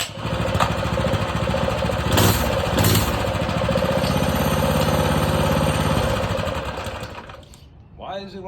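A Predator 212 small engine on a minibike runs loudly and close with a fast, rough, steady putter, then sputters and dies near the end as a voice begins to speak.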